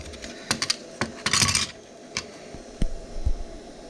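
Black-and-gold plastic psychic training discs being handled, producing a string of light clicks and clacks with a brief rustling scrape midway and scattered sharper taps, close by and with no talk.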